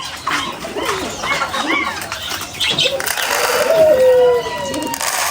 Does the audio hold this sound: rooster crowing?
no